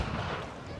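Ship cannon firing in the video game Assassin's Creed IV, a single loud booming blast with a rumbling decay, overlapping with shouted voices.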